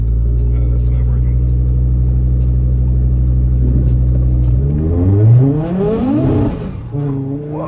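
Loud, close engine of an Audi S3 8Y with a built motor and Racingline Stage 2 tune, idling steadily and then revving hard as it launches at a quarter-mile drag strip, with pitch sweeping up and falling between gears.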